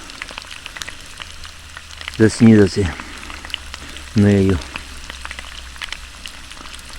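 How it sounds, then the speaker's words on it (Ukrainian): Potatoes fry in a pan over a campsite stove, giving a steady crackling sizzle throughout, with someone speaking briefly over it twice. "Люблю в поході я смажену картоплю."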